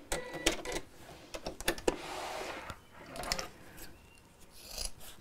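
Scissors snip close by, trimming back a fabric seam allowance during sewing, a few quiet crisp cuts and rasps in an otherwise hushed room.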